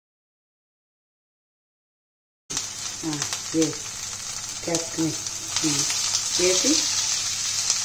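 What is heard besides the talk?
capsicum masala curry frying in a pan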